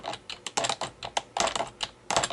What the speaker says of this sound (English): So as you can hear the noise difference, that my K350 is a bit more clunky